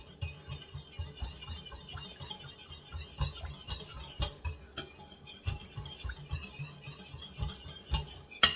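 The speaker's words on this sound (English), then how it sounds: "Give it a good mix so get all the chunks out of it." Utensil steadily mixing a Carolina Gold BBQ sauce in a bowl, soft rhythmic scraping and light clicks repeating close but faint throughout.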